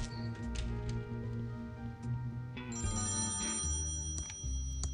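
A telephone rings in the point-and-click adventure game Thimbleweed Park, repeated electronic ringtone bursts over a steady game background, loud and close with no talking.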